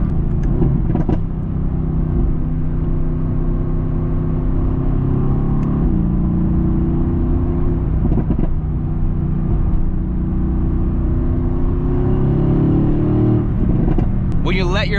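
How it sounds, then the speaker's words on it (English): A 2019 Mercedes-AMG GT S engine rumbles steadily with revving, and occasional sharp exhaust pops and crackles break through on lifting off the throttle, with a voice speaking over it. "When you let your foot off the gas and it just pops and bangs like no tomorrow"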